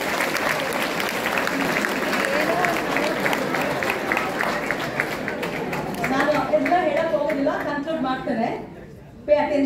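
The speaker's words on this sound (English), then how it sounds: "really it's a big round of" Applause in a college auditorium during a talk at S. Nijalingappa College. A dense crowd claps steadily under continuous speech and chatter, and the sound thins out near the end.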